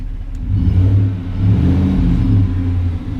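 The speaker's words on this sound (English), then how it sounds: "I guess I can let you hear the exhaust." A 2015 Chevrolet Silverado pickup truck idles with a deep, throaty exhaust rumble, rising in a couple of gentle revs before settling back.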